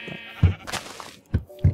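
Sheep bleating on the plains in the Minecraft game, several short close bleats in quick succession with faint background sound.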